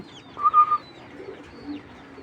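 A pair of red pigeons coo softly nearby, one short clear coo followed by faint low murmurs and background chatter from other birds.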